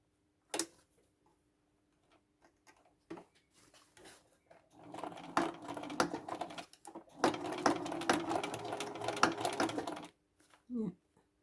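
A sewing machine stitches a label onto a red velvet tote bag, running in two sustained bursts of rapid rattling, with a few isolated clicks and knocks before and after.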